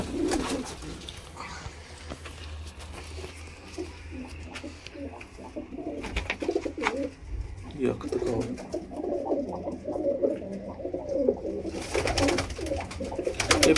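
Sialkoti black-faced pigeons coo in soft, repeated low rolls, with brief flutters and sharper clicks later and faint voices nearby.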